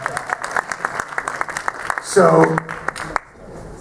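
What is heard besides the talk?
audience applause at a convention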